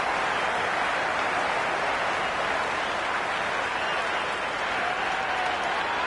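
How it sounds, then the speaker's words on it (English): Sustained applause and cheering from a large cricket stadium crowd, a steady, dense wash of clapping at even loudness throughout, with no clear individual voices. "It's evident and ever so audible that the crowd is at near bursting point at today's play"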